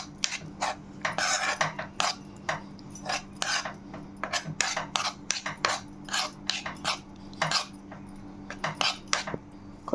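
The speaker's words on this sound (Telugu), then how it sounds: "గరం మసాలా, కొంచెం ఆయిల్ వేసుకుని ఇవన్నీ బాగా కలిసేలా ఒకసారి మొత్తం కలిపేసుకోవాలి." Raw prawns are tossed with turmeric, garam masala and a little oil in a metal bowl, giving quick wet scraping and clinking strokes in an irregular rhythm, close and fairly soft, with no voices.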